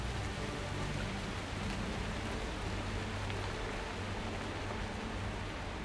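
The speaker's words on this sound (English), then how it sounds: "Oh my god, the storms." Heavy rain and storm ambience in the Guild Wars 2 game, a dense continuous hiss of downpour with a low rumbling undertone, even and unbroken throughout with no speech.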